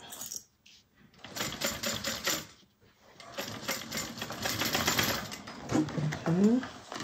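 A sewing machine runs in two long stitching bursts along a row on a satchel, a steady rapid mechanical whir that breaks off briefly in between, close up, with a voice speaking over parts of it.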